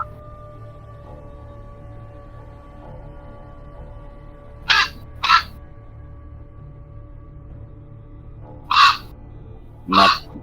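Ravens calling in two pairs of short, harsh caws, the first pair midway and the second near the end, clear against a quiet low hum.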